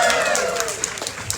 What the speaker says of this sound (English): Applause for a mugging.